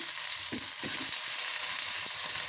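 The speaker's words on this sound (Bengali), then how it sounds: "এগুলো ফুলকপি, বেগুন, আলু একটু ভেজে নেব।" Cauliflower, eggplant and potato fry in oil in a home kitchen, giving a steady, close hiss of sizzling broken by a few soft stirring knocks, with no talking.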